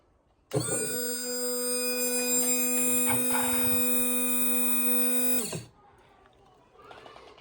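The pump of a homemade auto irrigator starts abruptly, then holds a loud, steady electric hum for about five seconds before cutting off, leaving only faint background noise.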